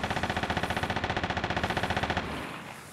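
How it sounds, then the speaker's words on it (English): PPSh submachine gun fire in the Vigor video game: a long, rapid, evenly spaced burst of around thirty close, loud shots that ends into a fading room tone. "That's the sound of somebody dying to a PPSH."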